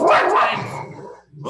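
A pet dog barks briefly and loudly indoors during a real-estate marketing podcast, the bark tangled with a man's speech before trailing off.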